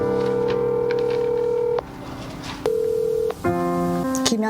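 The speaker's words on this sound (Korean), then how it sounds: "지금 전화를 드리면 됩니까?" A telephone being dialed, with a run of steady keypad tones that change pitch as keys are pressed, broken by brief gaps, loud and close with no talking.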